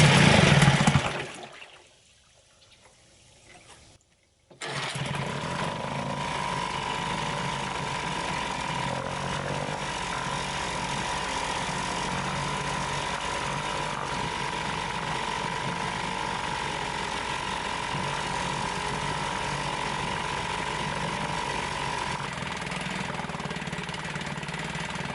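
An old Western Auto outboard boat motor, repaired and reassembled, starts after a brief lull and then runs steadily, with an even mid-pitched drone and a faint whine that holds to the end.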